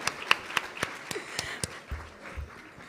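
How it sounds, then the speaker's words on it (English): Scattered claps from an audience at a professional induction program, a handful of separate hand claps spread across the moment, fairly faint and thinning out rather than a full ovation. "Please keep applauding"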